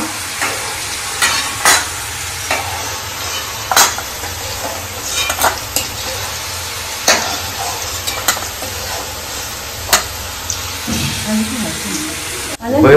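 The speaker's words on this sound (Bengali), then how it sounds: "বেরেস্তার জন্য পেঁয়াজ ভাজতে বসিয়েছি, আর এখানে প্রায় ডিম ভাজা হয়ে গেছে" Onions and eggs fry in hot oil with a steady sizzle, with occasional sharp clinks and scrapes of a utensil stirring the pan, close up.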